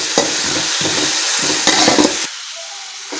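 Chopped tomatoes, four or five of them, cook in a pan for tomato rice, giving a close, steady sizzle with stirring scrapes that cuts off abruptly near the end, leaving near silence.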